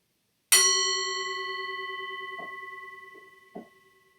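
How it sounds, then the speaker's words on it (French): A meditation gong is struck once and rings out alone, a bright metallic tone with long sustained overtones slowly fading over several seconds, with a few faint soft knocks near the end. "Je sonne le gong, on attend que le son du gong s'éteigne"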